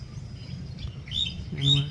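Two short, high bird chirps ring out near the end over a low, rumbling background on a farm.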